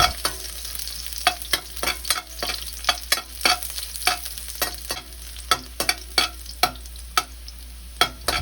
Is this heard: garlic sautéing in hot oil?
yes